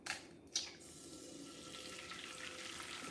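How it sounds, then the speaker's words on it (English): A kitchen tap runs steadily as egg shells are rinsed, preceded by two short clattering knocks, with the faint, even stream continuing at close range and no talk. "I like to rinse my shells out because I cooked them for about 10 minutes"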